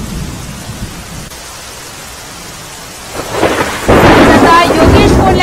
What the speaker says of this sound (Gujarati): તિલકવાડા સહિતના તાલુકાઓમાં ધોધમાર વરસાદ પડી રહ્યો છે.